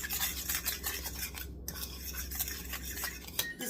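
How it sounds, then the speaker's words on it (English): A utensil scrapes and taps around a bowl as dry spices for a ground turkey meatloaf are stirred together, a close, quiet rhythmic rubbing with no talking. "But I'm just going to stir these up real quick."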